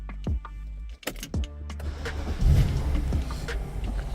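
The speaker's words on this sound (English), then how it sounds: "just turn the 15 on and off and start the engine" BMW 645i with an active steering fault being diagnosed: a few sharp clicks and switching sounds, then the engine cranks and catches around the middle and settles into a steady, close idle rumble.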